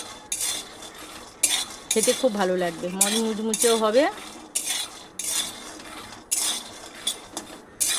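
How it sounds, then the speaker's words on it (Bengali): Peanuts are stirred in a pan over low heat, giving repeated scraping and clinking of a utensil against the pan in uneven bursts, with a voice speaking briefly partway through. "এখানে হালকা আঁচে বাদামগুলো নেড়ে নেব।"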